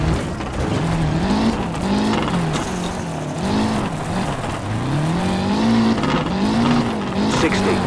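Renault 5 GT Turbo rally car in a WRC video game on the Rally of Greece, sliding through a hairpin on the handbrake; a loud, steady engine drone with pitch swells and tyre scrub, co-driver voice calling notes over it.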